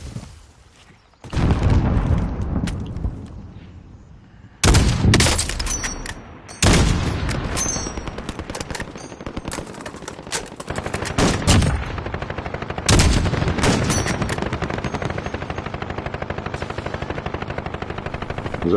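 Gunfire in the video game Call of Duty Warzone, loud sustained bursts of automatic fire and booming shots starting abruptly and continuing almost nonstop, with a low rotor-like drone underneath.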